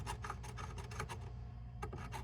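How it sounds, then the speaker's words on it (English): An old nail prying and scraping at a slow-draining kitchen sink drain in an older home, a run of close, quick rasping scrapes, a short pause, then a few more scrapes. "I'm gonna use this old nail to pry at this"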